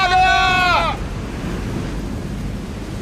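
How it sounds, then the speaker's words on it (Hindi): High, fierce ocean waves surge in a sea storm in an animated scene, with a brief voiced tonal cry at the start before a continuous windy roar of surf and rushing water takes over. "समुद्री लहरें इतनी ऊपर उठकर हमारी तरफ आ रही हैं। लहरें बहुत तेज हैं।"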